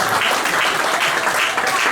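Applause from a church congregation during an online worship service, dense and steady throughout, a broad wash of many hands clapping at once with no break.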